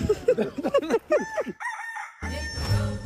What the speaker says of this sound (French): C'est un coq.